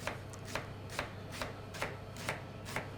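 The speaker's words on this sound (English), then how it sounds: "We're going to start with finely dicing an onion." A knife finely dicing an onion on a board makes a steady run of soft, evenly spaced chops, about two per second, close by and fairly quiet.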